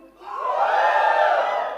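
Audience at a phone launch event roars and cheers together, a loud sustained crowd swell building quickly after a quiet start.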